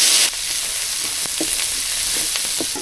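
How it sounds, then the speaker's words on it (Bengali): Onion, garlic and green chilli frying in a pan outdoors in the wind, a steady close sizzle broken by a few soft scraping stirs, with no talking. "পেঁয়াজ রসুন আর মরিচ ভাজা নিচ্ছি"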